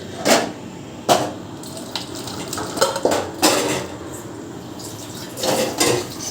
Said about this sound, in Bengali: রাখছি আমি তর সবজিটাকে আমি ঢেলে দিচ্ছি